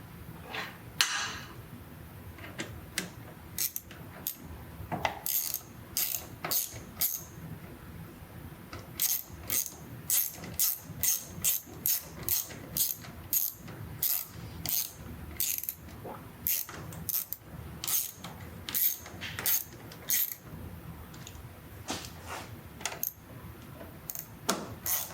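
Half-inch bolts being tightened with a ratchet, many rapid clicking bursts of the pawl in quick repeated strokes, close and crisp, with brief pauses between runs and no talking.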